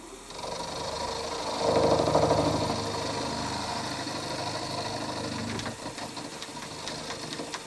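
A small machine tool steadily cuts across a Stuart Models S50 model steam engine part, producing a continuous motor hum and grinding whine with a brief louder swell early on, close and with no voices.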